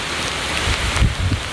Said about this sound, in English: I'm soaking wet, and I was just walking out here, and it's a torrential downpour.